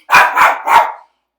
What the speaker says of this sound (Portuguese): Meu cachorro aqui tá latindo demais.